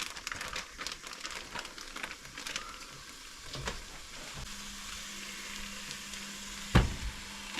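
Semi-frozen hamburger meat frying in a pot, a steady close sizzle and crackle with occasional stirring scrapes and a sharp clatter near the end.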